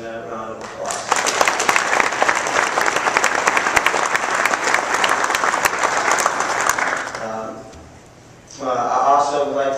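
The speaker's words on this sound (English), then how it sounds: "I'd like to give them that round of applause." Applause from a banquet audience at a university basketball tip-off dinner, a loud sustained round of clapping that fades out, followed by someone speaking into a microphone.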